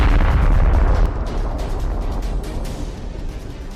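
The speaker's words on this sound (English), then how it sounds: "That strike set the tank ablaze, and the fire soon reached the ammunition storage," Massive explosion as a burning tank's stored ammunition detonates, a loud sustained roaring blast with deep rumble and crackling debris, heard alone and gradually fading.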